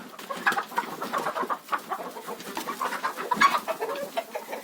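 Hens at a rural backyard coop cluck and chatter steadily while being fed treats, several birds close by with overlapping bursts of clucks and no talking.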